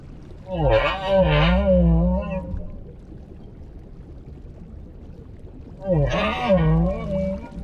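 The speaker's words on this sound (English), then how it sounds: "The humpback song is a powerful form of communication." Humpback whale song underwater: two loud, wavering moaning phrases with gliding tones, separated by a few seconds of low watery hiss.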